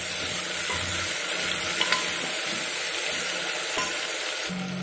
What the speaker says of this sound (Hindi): अब हम इसके अंदर हल्दी डाल देंगे और इसको भी हम अच्छे से मिक्स कर देंगे।